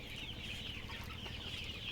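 A flock of chickens suffering from a sudden cold clucks continuously, a steady, close, slightly hoarse chatter with no one talking.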